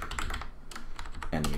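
Typing on a computer keyboard comes through as quick, close clicks of keys during a game-engine tutorial, with someone talking over them.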